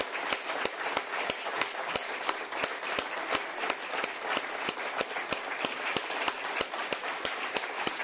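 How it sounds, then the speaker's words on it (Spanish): An audience gives rhythmic, evenly spaced applause of thanks at the close of a talk, crisp claps repeating at a steady beat for several seconds, moderately loud with no speech over it. "dándoles un fuerte aplauso"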